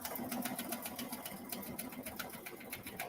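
A sewing machine top-stitches a vinyl cross-body bag, a quiet, rapid and evenly pulsing needle rhythm heard up close without talk.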